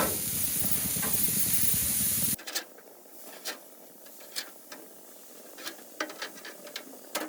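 A cheese-stuffed Juicy Lucy burger is flipped on a hot pan. A loud, dense sizzle fills the opening seconds, then the lid closes and the sound drops to a quieter crackle with scattered sharp pops.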